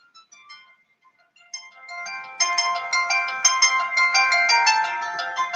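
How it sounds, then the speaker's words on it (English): A mobile phone rings with an incoming call from an unknown number, its melodic ringtone starting softly and swelling into a loud, repeating, bright pattern that plays alone for several seconds. "An unknown number calls when I'm talking about targeting."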